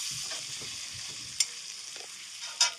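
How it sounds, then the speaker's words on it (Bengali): Onions and bay leaves fry in oil in a wok with a soft, steady hiss. Two sharp clinks of the utensil against the pan cut through. "কড়াইয়ে আবার তেল দিয়ে দেব এবং তেজপাতা দিয়ে দেব এবং পেঁয়াজগুলো দিয়ে দেবো"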